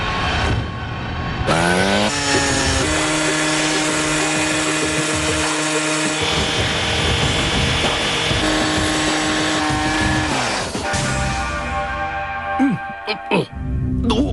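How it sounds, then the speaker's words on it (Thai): A power saw cuts into a concrete-filled safe with a loud, sustained grinding whine that shifts in pitch as the blade bites, then breaks off near the end into scattered clanks. "ตอนนี้ผมคิดว่าได้เวลาตัด เซฟนี่ลงไปตรงกลาง"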